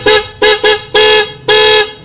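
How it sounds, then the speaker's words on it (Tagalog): A car's newly installed dual horn honks five times close and loud, a mix of short and longer blasts in quick, uneven succession. "naayos ko na ang ating busina"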